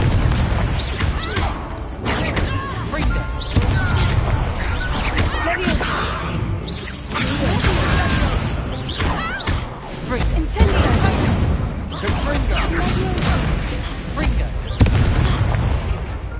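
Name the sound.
Confringo fire spell explosions in the video game Hogwarts Legacy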